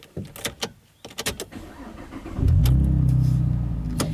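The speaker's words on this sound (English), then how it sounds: "Now this one has an aftermarket exhaust system." A 2010 Chevrolet Camaro RS V6 with an aftermarket exhaust drives off. Some light clicks and knocks come first, then a close, deep exhaust rumble swells up and holds as the car pulls away.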